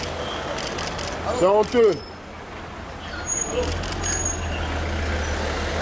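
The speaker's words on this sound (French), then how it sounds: "Regardez, tous ces camions de SAMU." SAMU emergency trucks passing on a Paris street near the Bataclan after the attacks, a broad rumbling traffic roar with a low engine swell and a hiss like an air brake, with a voice speaking briefly over it.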